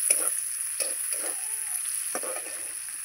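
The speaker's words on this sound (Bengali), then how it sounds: "এই যে চিংড়ি মাছগুলো আমি ভালো করে ভেজে নিয়েছি।" Shrimp fry in a hot pan, lightly cooked rather than crisp. A steady close sizzling hiss runs throughout, broken by several short scraping stirs.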